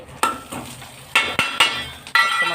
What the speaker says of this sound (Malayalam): അപ്പോൾ കടുക്, മുളക്, വറ്റൽമുളക്, കറിവേപ്പില ചേർക്കാം.